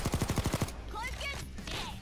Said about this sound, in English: And look at that, sentry guns.